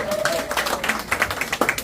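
A comedy club audience gives short bursts of scattered clapping while a performer keeps talking over it.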